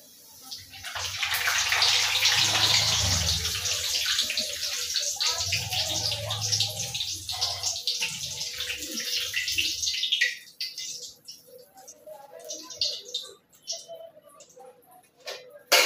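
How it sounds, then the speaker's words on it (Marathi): Papad frying in hot oil crackles and sizzles in a dense, bright hiss that stays loud for about ten seconds, then thins into sparse pops and bubbling. "भजी करण्यापूर्वी सगळ्यात पहिला पापड तळून घेते"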